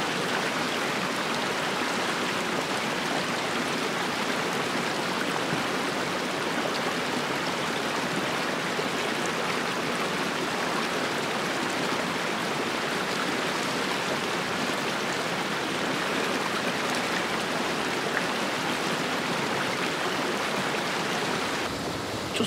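A clear mountain stream in the Howgill Fells of the Yorkshire Dales, near a waterfall, rushes steadily and close by, a dense, unbroken watery hiss with no voices.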